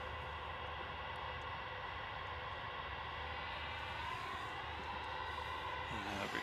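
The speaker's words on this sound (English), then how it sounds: "Next arrival is going to be Lufthansa from Munich." A Lufthansa airliner arriving from Munich at Manchester Airport, its jet engines producing a steady, broad roar that holds constant and fairly distant throughout, with no talk over it.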